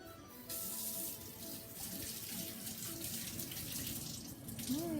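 Tap water runs steadily into a sink while fresh basil is washed under it, a continuous close splashing rush that stays level throughout, with a faint voice briefly heard near the end.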